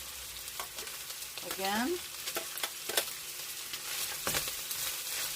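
Garlic frying in a pan for a squash and pork stir fry, a steady close sizzle with occasional scraping and stirring clicks, a voice briefly speaking over it.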